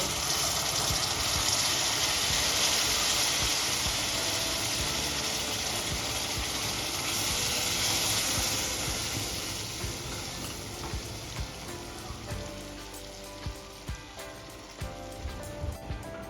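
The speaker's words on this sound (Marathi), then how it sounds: "आता राहिलेले पाणी पूर्ण ॲड करून घेऊया" Hot water poured into roasted semolina in a pan for saffron suji halwa, a steady close hiss and gush of pouring that softens toward the end into bubbling and spattering pops.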